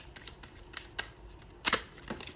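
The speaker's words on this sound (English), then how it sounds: "The cards are very slippery and I have long nails, so sometimes it is just a little harder for me to shuffle" A deck of slippery tarot cards shuffled by hand with long nails, heard as irregular crisp riffling bursts and light flicks close to the mic.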